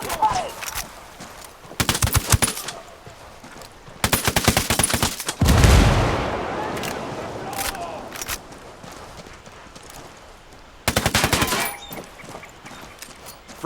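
Bursts of automatic gunfire from Ghost Recon Wildlands, several loud rapid volleys separated by pauses, with a heavy blast-like burst midway and clip-clopping hooves beneath.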